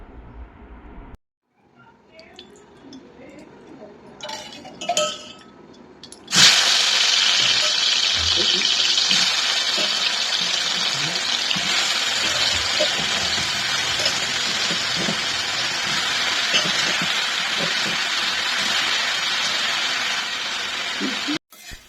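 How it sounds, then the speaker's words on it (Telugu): Sliced mushrooms hit hot oil in a home kitchen pan for a restaurant-style gravy curry, and a loud, steady sizzle follows for the rest of the moment after a few quiet handling sounds at the start. "ఇలా నూనెలో వేసి కొంచెం సేపు మష్రూమ్ని కొంచెం వేయించుకోవాలి"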